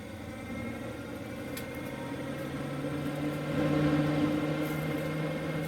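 A Fan-tastic roof vent fan runs inside a converted school bus, giving a steady, moderate whirring hum with a faint tonal drone that rises slightly partway through, mixed with wind noise from outside.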